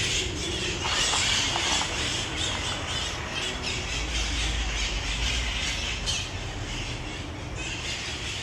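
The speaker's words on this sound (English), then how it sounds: "we got two species of parrots right now, the red-faced and the chestnut-winged." Red-faced and chestnut-winged parrots squawk and squeal continuously at dusk in South Florida, a dense noisy flock calling with no voices present.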